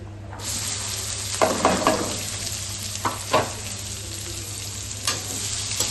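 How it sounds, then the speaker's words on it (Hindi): Onion and cumin frying in a pan over high heat, a loud steady sizzle close by with a few stirring scrapes and clatters breaking through. "तो अब प्याज फ्राई कर लेती हूँ"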